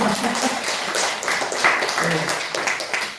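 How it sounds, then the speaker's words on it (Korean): Audience applause at a parent education session held at a daycare center, steady clapping filling the room for the whole stretch while voices carry on underneath. "케이스 두 가지 들으니까 박수 한번 치세요"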